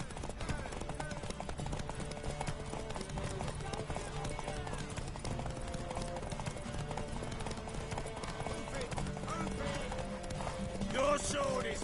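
Hoofbeats of a horse in The Witcher 3 clip-clop steadily through the clip, mixed with game music and ambience while characters talk over them.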